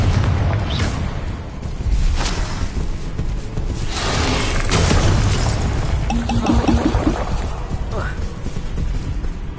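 Confringo explosion spells in the Hogwarts Legacy video game: repeated loud, close booms and bursts over dense rumbling battle noise, with a voice talking over part of it.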